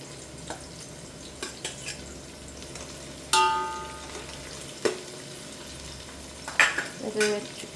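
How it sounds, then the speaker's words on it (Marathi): Onion, green chillies and bay leaf frying in oil, a soft steady sizzle with occasional stirring clinks and scrapes of a spoon against the pan. "आता कांदा मिरची आणि तेजपान टाकून घेतले मी तेलामध्ये छान भाजू देते"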